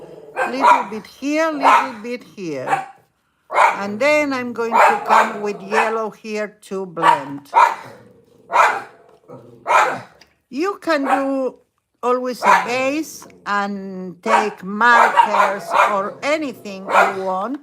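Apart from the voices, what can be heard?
dogs barking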